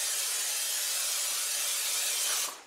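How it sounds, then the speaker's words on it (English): A continuous close-up hiss of cooking spray sprayed into baking dishes over a sink, lasting a couple of seconds, then cutting off abruptly. "I'm going to go ahead and spray the inside of these over the sink"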